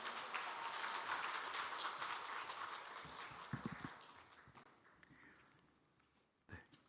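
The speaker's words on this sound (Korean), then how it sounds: "선교사님 나오실 때 큰 박수와 할렐루야로 환영하겠습니다" A church congregation at a Wednesday worship service in Suwon applauds to welcome a missionary serving in Malaysia, a broad, fairly distant clapping that gradually thins and fades out, leaving a few scattered claps and soft knocks.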